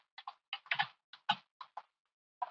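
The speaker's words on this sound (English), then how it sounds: "I can type in the name of my test case" Keys clatter on a computer keyboard as a test case name is typed, a quick irregular run of crisp, close clicks in small bursts against silence.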